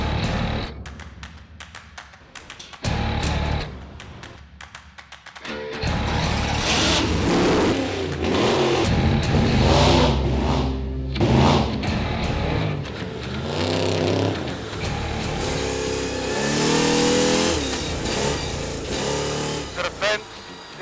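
A Patriot Campers Aussie Spec trophy truck engine revs hard as it approaches, growing from a distant hum to a loud, sustained roar with shifting pitch, while people talk over it.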